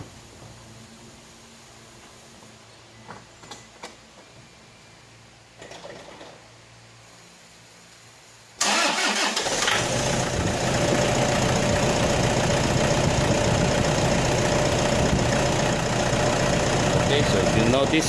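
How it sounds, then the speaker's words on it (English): A car engine starts and then idles steadily and loudly on an alternator test, after a quieter stretch of clicks and handling noises. "Okay, so I'll turn on the engine now."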